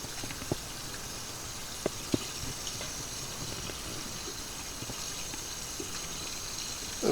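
Herring fillets rinsed in a bowl of cold water, with a steady low wash of water and occasional small splashes and clinks throughout, fairly quiet and close.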